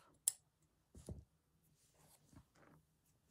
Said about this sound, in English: Let me just snip that off.